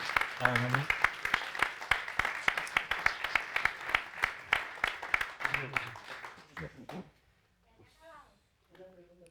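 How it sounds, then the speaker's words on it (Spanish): Dense applause from an audience at a talk, many hands clapping steadily for several seconds before tapering off, with voices emerging as it fades. "Un aplauso."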